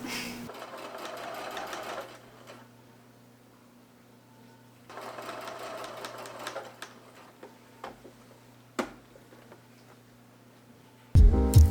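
A home sewing machine hems a shirt in two fast bursts of stitching separated by a pause, followed by scattered clicks and handling noises and a loud thump at the very end.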